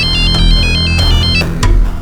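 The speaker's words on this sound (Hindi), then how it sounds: "फिर मैंने सविता को फोन किया।" An outgoing phone call rings with a loud, close, repeating electronic ringback tone, several short melodic pulses in quick succession with no talking.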